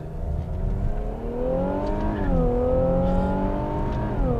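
An Infiniti Q60 3.0T coupe engine revs up loudly in first gear, pitch climbing steadily, dipping briefly, then rising again as it accelerates close by.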